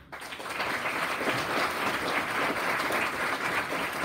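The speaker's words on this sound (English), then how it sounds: "please give them a huge round of applause" Audience applause at a Grade 7 school prize-giving ceremony, swelling quickly from the start into a broad, continuous roar of clapping that holds steady until it cuts off at the end.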